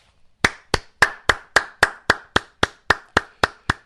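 A single person claps slowly in a quiet room, about thirteen sharp, close hand claps in a steady, even rhythm, each one crisp and distinct.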